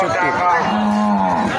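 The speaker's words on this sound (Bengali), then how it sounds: "পুরান ঢাকার ঐতিহ্যবাহী গরুর হাটে আমরা চলে আসছি" Cattle at the Eid al-Adha livestock market in Dholaikhal, Old Dhaka, give one loud, close, drawn-out moo over a busy crowd murmur.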